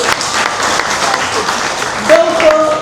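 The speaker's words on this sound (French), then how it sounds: "je vous demande d'applaudir pour vous-même" Audience applause at a public gathering in Conakry, Guinea, a steady broadband clatter of many hands throughout, with a voice briefly rising over it near the end.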